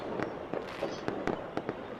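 Fourth of July fireworks burst in a rapid, irregular series of sharp bangs, about eight loud pops in two seconds over a constant rumbling backdrop, with no voices.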